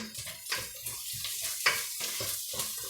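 Onion for a chickpea stew fries quietly in a pan, soft sizzling broken by repeated stirring scrapes and light utensil knocks, close and uneven in rhythm.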